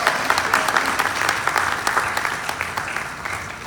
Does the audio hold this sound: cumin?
no